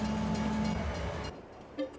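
Freight train in the Farming Simulator 22 video game, a steady, fairly quiet rumble of rolling rail cars that cuts off abruptly, followed by a brief faint mechanical clunk.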